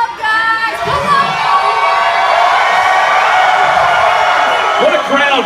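A large crowd at a summer smoke-out music festival cheers and whoops continuously at close range, loud and sustained, with shouting voices mixed in throughout.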